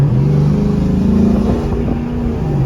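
A worn, beat-up Dodge Charger SRT8 revving while driving, a loud continuous V8 engine drone that rises and falls slightly in pitch, heard close from inside the car.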